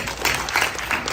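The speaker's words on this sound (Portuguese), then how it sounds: "Palmas para Marco Aurélio." A short burst of clapping from an audience honoring Marco Aurélio, steady and fairly close, lasting only about a second.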